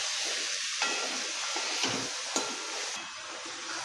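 Jackfruit seeds are stirred into a frying onion and coconut masala in a Konkani-style dish, giving a steady close sizzle broken by a few sharp spatula knocks against the pan.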